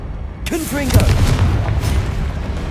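Fiery spell blast from Confringo in the video game Hogwarts Legacy, a sudden boom with crackling burst that rolls into a rumbling tail, mixed with brief magical whooshes.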